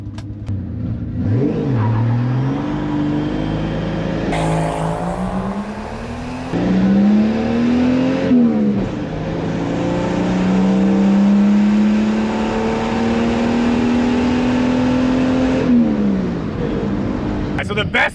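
A cheap Dodge truck fitted with a $125 turbo accelerates hard on a closed course, its engine revving up in long rising sweeps with a brief shift break, loud and close from inside the cab with talk over it.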